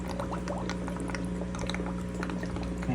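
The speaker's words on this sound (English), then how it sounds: "we're just going to put these roots in the water" Plant roots are lowered into a fish tank's water, giving steady close-up gurgling and trickling, with bubbler noise and a constant low hum underneath.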